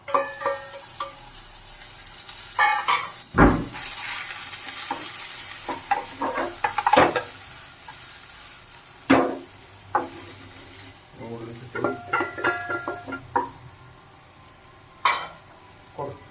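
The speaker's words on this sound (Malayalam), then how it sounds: "എണ്ണ നന്നായി ചൂടായിട്ടുണ്ട് അപ്പോൾ അതിലേക്ക് നമ്മൾ ആദ്യം തന്നെ ക്യാരറ്റ് വെളുത്തുള്ളി ചിക്കനും കൂടി ഇട്ട് കൊടുക്കാം" Carrot, garlic and chicken fry in hot oil with a bright, crackling sizzle, while a utensil stirs and clanks irregularly against the pan, close up and moderately loud.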